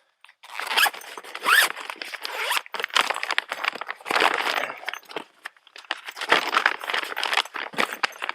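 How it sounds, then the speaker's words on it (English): A zipper is pulled in repeated quick strokes around the insulated cover of an ICECO GO20 dual-zone portable fridge, sounding as close, crisp rasping bursts with short pauses between them. "And it has a zipper all the way around."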